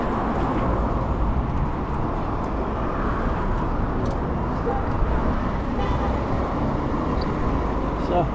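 Suburban road traffic in Dublin's southside heard from a bicycle, a dense continuous rumble of passing cars and larger vehicles, loud and close throughout.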